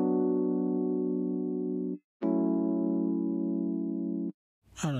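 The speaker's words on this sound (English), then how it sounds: "And then tape delay, and that sounds like this." A synth tone with tape delay plays two long sustained notes separated by a brief gap. Each tone is steady and harmonically rich with a slight wavering, followed at the end by a short burst of noisy sound. No one speaks.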